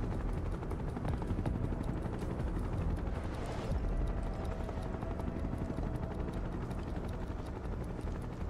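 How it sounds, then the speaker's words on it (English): A loud, continuous helicopter rotor drone in the video game Final Fantasy VII Rebirth fills the scene, heavy and rumbling, with a brief burst of rushing noise partway through. "There are literally helicopters up there."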